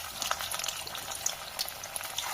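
Spiral paneer and potato snacks sizzle steadily in hot oil, a dense crackling hiss that holds at an even level with small pops throughout, and no one speaks.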